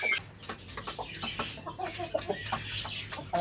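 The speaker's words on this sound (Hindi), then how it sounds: "सुबह मैंने मुर्गियों को खुराक नहीं डाली और इस टाइम ये बहुत ज़्यादा भूखी हैं" Hungry village chickens cluck busily as feed is scattered for them, a close flock of overlapping short clucks and calls with no voices.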